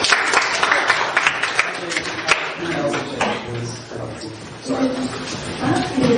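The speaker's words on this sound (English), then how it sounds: "One applause for her, please." A classroom crowd claps in a dense, steady burst of applause during an open English lesson, with chatter and a few voices mixed underneath.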